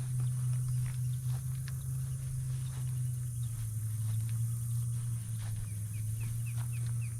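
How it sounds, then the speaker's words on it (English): A series of short, high whistled chirps from a distant osprey repeats in quick bursts at a wetland in Orlando, over a constant low hum of background noise. "That's an osprey you're hearing right now."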